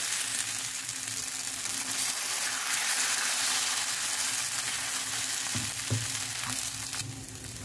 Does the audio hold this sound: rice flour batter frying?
yes